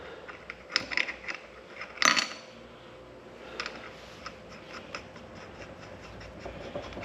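A nut being tightened onto a John Deere brake assembly, with a few clicks and metallic clinks, a louder clattering burst early on, then quieter scattered ticks of the work close by.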